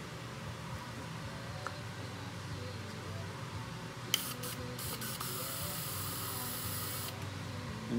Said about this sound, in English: I just sprayed a little bit in this cup